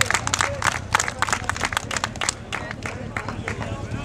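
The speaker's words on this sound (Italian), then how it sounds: "L'applauso degli sportivi per Benedetto Patellaro" Sports fans at a cycling event applaud a cyclist, with scattered, uneven clapping nearby and crowd chatter in the background.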